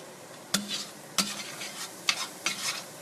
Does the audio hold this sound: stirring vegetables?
yes